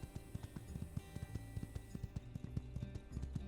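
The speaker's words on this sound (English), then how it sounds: "Don't want to wear my poor horse out." A horse in the game My Time at Sandrock clip-clops along in a steady, quick rhythm of distinct hoof strikes, close and unbroken, with no one talking.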